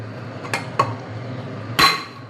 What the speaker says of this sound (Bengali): এই যে এরকম ভাত ঢালছি আমি